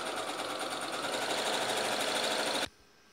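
Sewing machine stitching the placket of a men's shirt: a steady, close, loud mechanical whirr for about two and a half seconds that stops abruptly, leaving quiet room tone.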